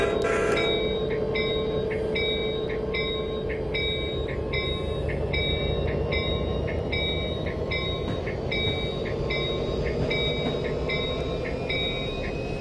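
Amtrak F40PH diesel locomotive pulling away in Train Simulator 2015 on the Pacific Surfliner route, a steady engine drone with a rhythmic series of high bell tones ringing throughout and no talk.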